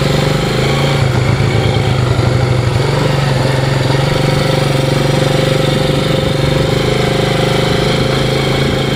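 A 25-year-old Yamaha Moto4 ATV with hard old tires and no suspension drones loudly and steadily while being ridden, its engine note holding close and constant with a slight rise in pitch.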